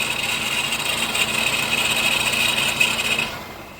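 A Honda CR-V 2.2 diesel engine idling with a worn alternator bearing: a steady high whine over a low engine hum, close and fairly loud, then fading sharply near the end, with no talking.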